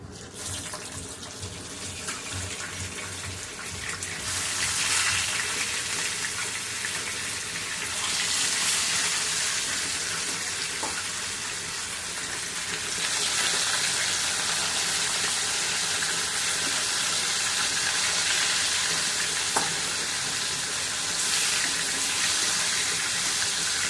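Hilsa fish frying in hot oil in a frying pan: a continuous broad hiss that swells in stages as pieces go in, close and steady, with no talking.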